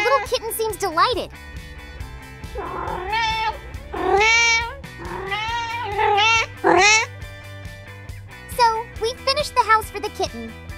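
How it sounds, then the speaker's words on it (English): A kitten gives a run of high, wavering meows, several drawn-out cries close and fairly loud, with a faint tinkling jingle and toy noise between them. "The little kitten seems delighted."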